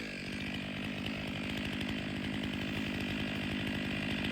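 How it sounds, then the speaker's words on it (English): A large, powerful chainsaw fitted with a 36-inch bar cleans up the felling cut on a big tree during a cable-assisted felling in a tight, high-hazard spot. The engine roars steadily and loudly up close, with no talk over it. "So the largest chainsaw I own has a lot of power. So here I'm cleaning up that cut."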